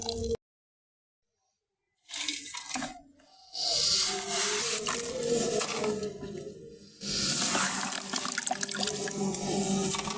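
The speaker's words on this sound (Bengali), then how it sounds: "তার জন্য পানিগুলো ঝরিয়ে নিতে হবে।" Water trickles and drips from soaked straw being drained for goat feed, coming in uneven bursts of splashing flow broken by a few short silences.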